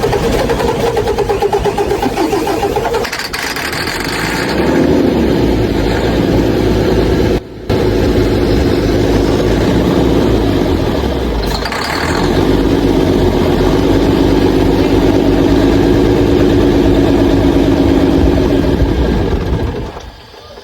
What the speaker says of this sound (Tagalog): mandar siya pag ginamitan natin ng electronic contact cleaner, pero namamatay rin siya